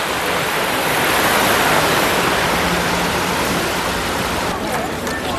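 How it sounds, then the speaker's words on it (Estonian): Mountain stream water rushing downhill in the Tatra mountains, a loud, steady broadband roar of flowing water that fills the scene close by without a break. "Mägede vesi siis voolab siit ilusti alla niimoodi."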